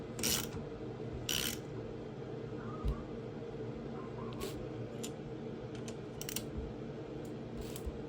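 Ratchet tightening bolts on a 110cc engine during reassembly, with a few sharp clicking bursts spaced irregularly over a steady low background hum, fairly quiet and close.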